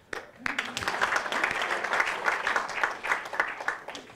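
Audience applause at an evening talk event, a steady roomful of clapping that starts after a brief pause and continues evenly at close range, with no talk over it.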